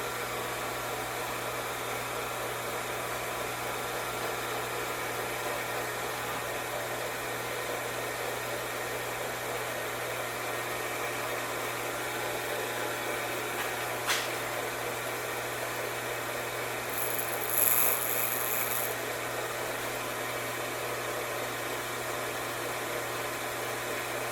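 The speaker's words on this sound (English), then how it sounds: "We're going to engage the magnet, turn the grinder on" Grinder on a reamer sharpening fixture running with a steady even whine and hum throughout, a brief click partway and a short higher hiss near the end, no talking.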